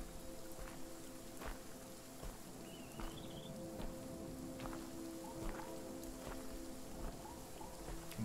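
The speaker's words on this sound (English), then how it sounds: "Still raining though." Steady rain falls in the horror video game Visage, a constant soft hiss of drops with faint scattered taps and a low ambient hum, continuous and moderately quiet.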